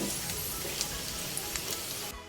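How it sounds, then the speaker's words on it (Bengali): Potatoes sizzle steadily in hot oil while being turned over and half-cooked, a close, even crackle with a few brief clicks from a utensil and a short drop in level near the end. "আমি আলুগুলাকে এই ফিট ও ফিট উল্টিয়ে ফাল্টিয়ে একটু করে বেজে নিলাম"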